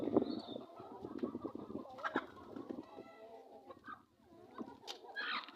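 Chickens on a poultry farm cluck and chatter in a busy flock, overlapping calls at a moderate distance with no speech.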